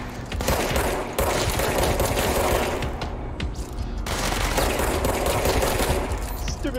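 Sustained rapid automatic gunfire rattles loudly and continuously during a video game boss fight, with brief dips between bursts.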